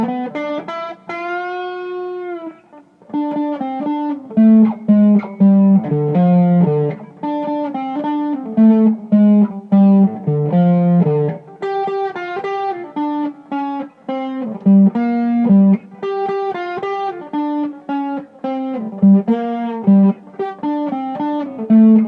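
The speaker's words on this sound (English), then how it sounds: "Now let me go ahead and use some overdrive with my Jekyll and Hyde." Electric guitar through a Jekyll and Hyde overdrive pedal into a 1982 Peavey Bandit amp, playing a driven, gritty melodic line with sustained notes and quick phrases, loud and close, with no talking.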